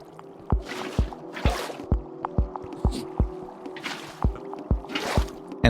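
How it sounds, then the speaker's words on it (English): Water is placed in Minecraft while building a guardian farm: a rhythmic run of wet, squishy splashes and drips, about two per second, with occasional swishing whooshes between them. "Now, the next step is to put some water in the corners,"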